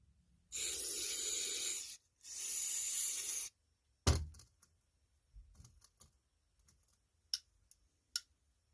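Carb cleaner sprays in two loud hissing bursts, the first about one and a half seconds long and the second slightly shorter, through a 2009 Murray snowblower's Tecumseh carburetor, followed by a sharp clack and scattered small clicks and taps.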